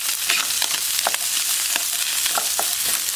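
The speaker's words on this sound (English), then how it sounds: "we're going to go ahead and add in the onions. Cook that up a little bit." Onions sizzle in a hot pan for a breakfast sausage stir fry, a dense, close crackle with brief stirring scrapes and no voices.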